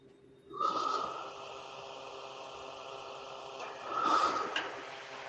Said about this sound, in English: There was someone breathing into the microphone.